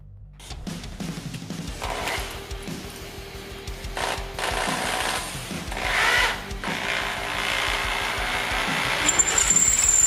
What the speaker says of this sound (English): I've been here for at least like an hour trying to drill this